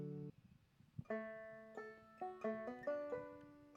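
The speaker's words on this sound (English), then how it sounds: "Another trick I really like lately is the banjo, which sounds like this." Plucked banjo notes ring out one after another in a short rising phrase, each twangy pluck clear and close, with nothing else playing.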